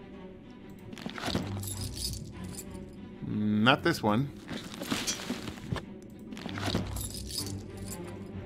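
Metallic jangling and clinking of a bunch of keys being tried in a locked door in the Shadowgate game on PC, a short burst at mid-clip with people talking over it before and after.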